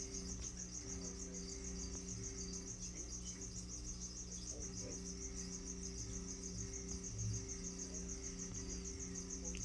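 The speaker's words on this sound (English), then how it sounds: "You probably hear the crickets." Steady, high chirping of crickets continues throughout, with a low hum underneath and no talking.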